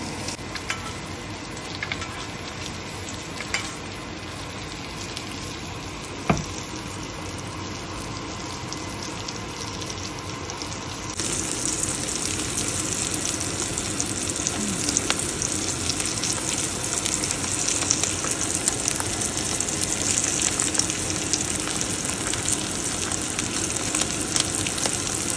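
Steak fries in a pan with a continuous close sizzle that jumps louder partway through and stays strong, with a few small clatters from the pan.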